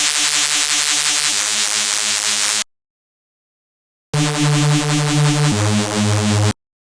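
A buzzy synth tone with a narrow, filtered character plays in two sustained bursts separated by a short silence, its pitch stepping between notes.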